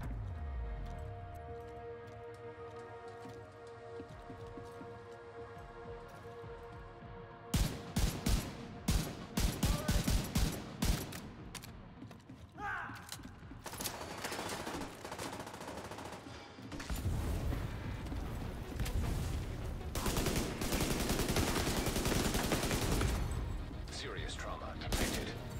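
Enemy gunfire in The Division 2 starts as a quiet game backdrop, then breaks into bursts of rapid automatic shots and sustained heavy fusillades that grow dense and loud, with a player's voice heard over the action.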